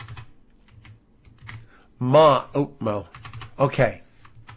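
Computer keyboard typed in short clusters of quiet keystrokes, close by, with a person speaking briefly in the middle.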